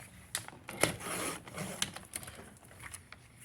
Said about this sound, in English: going to put that in the trimmer tall and cut it at 1 inch